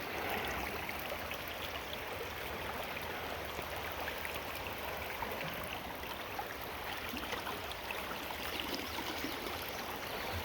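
A rain-swollen stream at a gold prospecting site in Indiana rushes and gurgles in a steady, dense wash of water noise that stays constant throughout.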